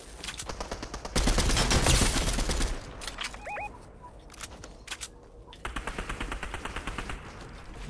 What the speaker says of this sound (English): Yeah, he's shooting at me right now